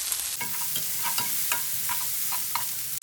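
Onions sautéing and slowly caramelizing in a pan, a steady close sizzle with rhythmic spoon scrapes and stirs repeating throughout.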